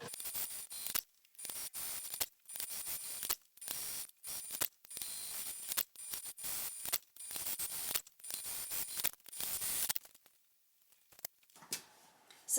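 A sewing machine top-stitches a bag pocket on a sling bag in short, rapid mechanical bursts separated by brief pauses, then goes quiet near the end.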